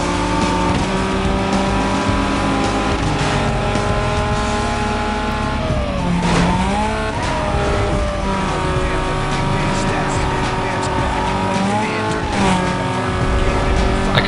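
Racing cars in Need for Speed: Most Wanted Black Edition roar at close range. Engines rev and shift, tires squeal, and rival cars stay close behind through a continuous loud run, with faint commentary underneath.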